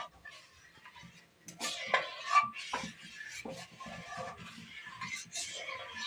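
A spoon stirs and scrapes through milk thickening in a pot over low heat for chhanar payesh. The soft, irregular scraping and clinking is faint and close, with quiet pauses between strokes.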